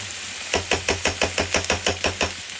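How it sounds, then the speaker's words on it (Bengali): A spoon stirs vegetables in ghee, knocking against the pan in a steady rhythm of about a dozen close, even taps over a soft sizzle. "আমি চামচ দিয়ে নাড়াচ্ছি কারণ ঘিটা যাতে নষ্ট না হয়।"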